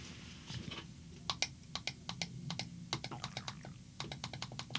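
Thumb keys and buttons on a Freedom Scientific Focus 80 Braille display pressed repeatedly, producing quick, faint plastic clicks in irregular bursts, close up over a quiet room hum.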